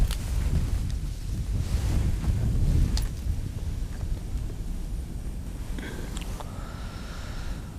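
Strong winter wind at a cold South Jeolla fishing spot buffets the microphone, making a steady, loud low roar with gusty swells throughout and no voices.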